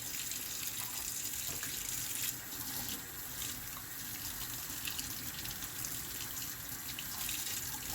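Tap water runs steadily from a faucet into a sink, rinsing a custom-painted HO scale GP9 locomotive shell; a continuous, close hiss and splash with slight shifts as the shell moves under the stream.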